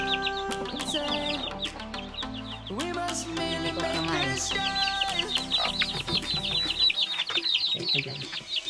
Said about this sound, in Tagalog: Ito yung lahi ng manok natin.